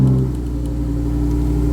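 A sports car with a fighter-jet-style toggle ignition fires up and settles into a deep, steady rumbling idle, close and fairly loud, with no talking.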